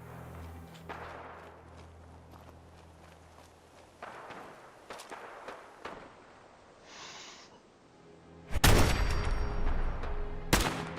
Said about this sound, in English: Why are they shooting at the Brahmin?